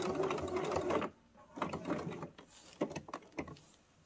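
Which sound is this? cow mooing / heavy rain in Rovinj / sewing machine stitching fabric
sewing machine stitching fabric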